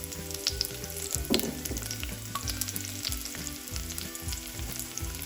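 Garlic sizzles in hot oil in a pan, a busy crackling fry with occasional stirring clinks over a low steady rumble, no one talking.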